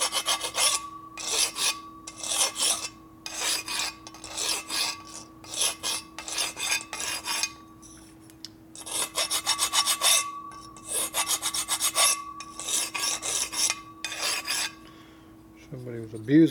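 Hand file rasping across the cooling fins of a 1978 Harley shovelhead cylinder head, in steady repeated strokes with short pauses between bursts, close and clear with no talk.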